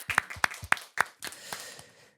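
A few sharp claps from an audience at a Catholic senior academy gathering, four distinct strikes followed by a brief scattered patter that quickly fades out, close and fairly quiet.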